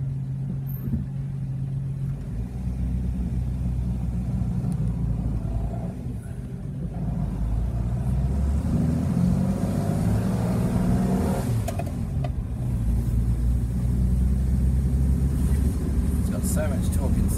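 A Holden FJ utility engine drives along in second gear, a steady low rumble from inside the cab running throughout with slight swells, while people talk over it.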